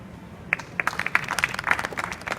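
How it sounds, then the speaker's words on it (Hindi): Scattered claps from a school audience of students during an adolescence education session at an inter college, irregular and fairly sparse, building into light, uneven applause with no voices on top. "ताली बजाओ"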